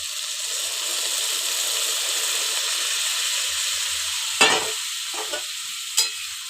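Fish curry base sizzling and frying steadily in a pan, a continuous hiss with a few sharp stirring clinks and scrapes near the end.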